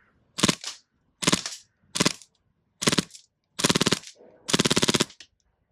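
A gas airsoft secondary pistol firing on full auto, close and sharp. It lets off six short rattling bursts separated by brief pauses, and the final burst runs longest.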